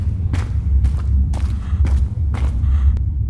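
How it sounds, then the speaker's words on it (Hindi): Footsteps of a character walking in the video game Down Beneath, a steady series of dull thuds about every half second over a low rumbling ambience. "इसकी पैरों के पीछे चलने की आवाज़ भाई दिमाग खराब कर रही है।"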